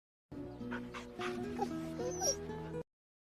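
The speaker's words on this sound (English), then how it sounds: "and her guard dog, Paco" Guard dog in the animated Ferdinand film whimpering and yipping, a string of high, tonal whines and short yelps close and clear over quiet music, lasting a few seconds.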